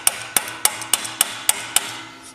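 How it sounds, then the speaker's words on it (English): Light metal taps on an air compressor during a tune-up, struck with a crescent wrench used as a hammer to tension the belt: seven crisp, evenly spaced, close strikes, loud and clear with no voices. "Some nice little taps."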